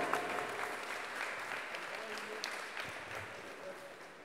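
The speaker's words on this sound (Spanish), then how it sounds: "Que se escuchen las palmas, por favor, público." An audience claps steadily at an outdoor basketball award ceremony during a town fiesta, a dense, moderately distant applause that slowly tapers off over several seconds.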